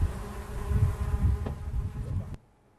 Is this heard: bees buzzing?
yes